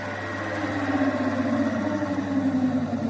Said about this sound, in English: We will gradually reduce the regulator and bring the motor in the idle condition.